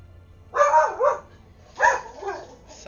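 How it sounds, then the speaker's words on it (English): A dog in the game Star Trek Online barks twice, two loud, close, tonal barks a second apart, with no talking. "Silence, dog."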